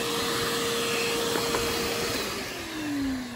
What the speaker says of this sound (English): let me move this vacuum over some.